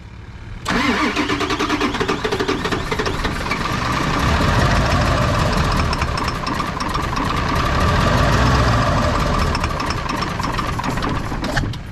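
A worn-out 7.3 diesel truck engine, cold, catches abruptly after a brief silence and settles into a loud, rough, knocking idle that runs steadily and close by, with no talk.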